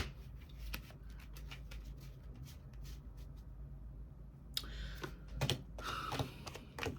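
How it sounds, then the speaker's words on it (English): Soft, quiet tarot card shuffling with scattered light taps and riffles, a brief busier flurry near the end, no talking. "I'm going to go ahead and shuffle up these cards."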